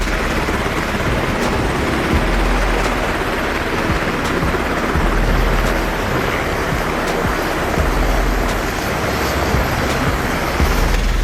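V-22 Osprey tiltrotor engines and rotors in helicopter mode give off a loud, constant roar of broadband noise with faint rhythmic beating. The sound holds steady the whole time without a distinct spin-up.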